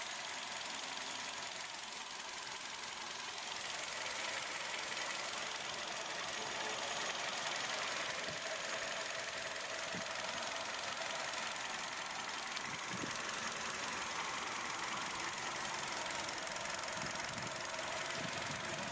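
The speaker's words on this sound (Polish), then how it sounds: "Najpierw posłuchamy silnika na benzynie," A Hyundai i30 with a 1.4 CVVT 100 hp engine from 2012, LPG-converted but here running on petrol, idles steadily with an even mechanical hum and faint ticking, heard up close with no talking.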